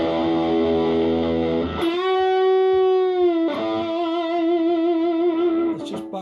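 An electric guitar with humbucker pickups plays through a BOSS DS-1 distortion pedal, giving a loud, sustained distorted chord that cuts off and returns as a fresh ringing note held to the end, with no voices.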